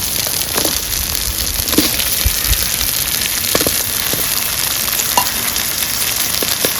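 Tomatoes and green chillies fry in a pan with ginger-chilli paste while cooking boti curry, a steady bright sizzle broken by occasional scrapes and stirring clicks from a utensil, heard close and alone.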